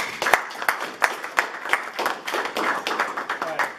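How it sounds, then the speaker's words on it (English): Audience applause for speakers at a business design talk: a small group clapping in distinct, fairly close claps that blend into a light patter, with a voice speaking faintly underneath. "So let's give them a round of applause."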